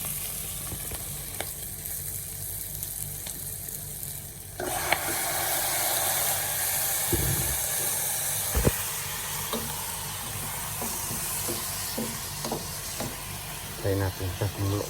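Steady sizzling and frying of chicken in a cooking pot for tinola, loud and close, with a stronger hiss surge partway through and a few clinks of utensils against the pot.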